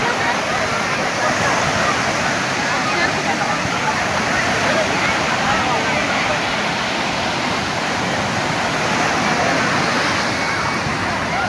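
Sea waves at Marina Beach roar as a dense, constant wash of surf, loud and close, with no breaks for the whole stretch.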